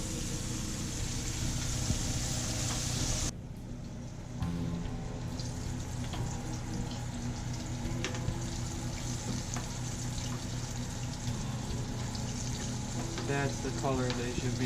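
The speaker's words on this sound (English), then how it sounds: "It'll still cook pretty well because that grease is popping all around it." Breaded rock bass fries in hot grease, giving a steady, dense sizzle with crackling and popping that goes on the whole time, briefly easing at one point.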